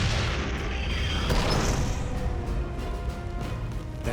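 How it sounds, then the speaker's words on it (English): A heavy, rumbling tank shell explosion from World War I with a roaring blast that fills the space and slowly fades into crackling debris. "Then I heard a tremendous explosion"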